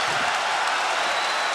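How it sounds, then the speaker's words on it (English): Arena crowd at a UFC fight roaring and cheering, a dense continuous wash of noise that starts slightly louder and holds steady, heard from within the crowd with no clear talk over it. "This crowd is going nuts."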